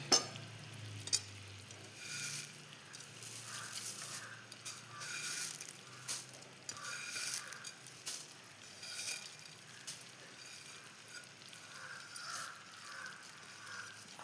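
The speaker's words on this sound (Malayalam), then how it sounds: "അപ്പോൾ ഇതും നല്ലവണ്ണം വെള്ളത്തിൻ്റെ കൂടെ റെഡിയാകാൻ വേണ്ടിയിട്ട് ഇളക്കി കൊടുക്കുക" Roasted beaten rice is stirred with water in a cooking pot for a sweet dish with cowpeas and plantain, giving faint, irregular scraping and soft wet rustling bursts that repeat at a quiet level.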